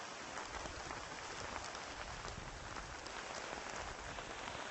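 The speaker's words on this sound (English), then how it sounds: "And the rain just continues to intensify." Heavy rain pours down steadily and loudly, a dense unbroken hiss of drops striking surfaces throughout, with no voices.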